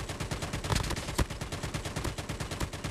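Rapid bursts of automatic gunfire from the mobile shooter Call of Duty Mobile, loud and close, rattling in a steady rhythm with one sharper crack midway and no talk.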